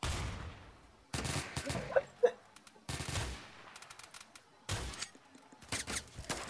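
Rapid bursts of gunfire from the online shooter game Phantom Forces, several clustered volleys with short gaps between them, fairly close and without talk over them.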